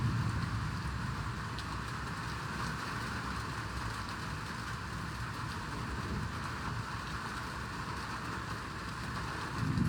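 Steady rain falls in Banasree, Dhaka, in a continuous soft wash, with a low rumbling hum underneath and no voices.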